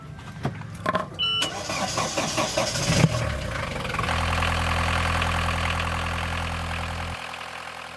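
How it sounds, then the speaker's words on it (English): Clicks and clunks lead into a sailboat's diesel engine cranking and catching, then settling into a steady, throbbing idle before cutting off near the end. "You want to fire the engine up?"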